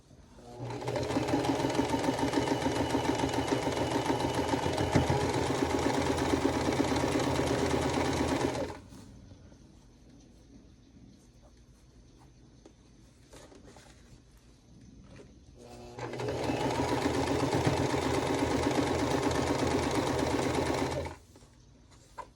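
Sewing machine stitching quilt block pieces runs steadily for about eight seconds, stops during a quiet pause, then starts again for a second run of about five seconds. The motor and needle whir sounds close and loud, with no talking.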